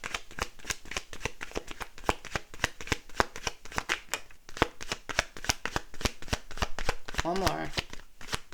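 Tarot cards being shuffled in a rapid run of crisp riffling snaps and slaps, close and steady throughout, with a short burst of voice near the end.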